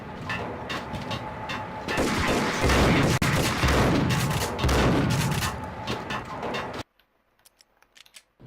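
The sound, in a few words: pump action shotgun gunfire in video game Max Payne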